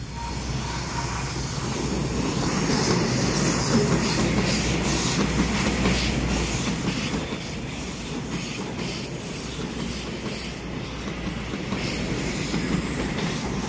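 An EMU505+EMU520 local train departs Su'ao on the Yilan line, a continuous loud rumble of wheels and rail noise with faint squeal, rising and swelling steadily, no talk.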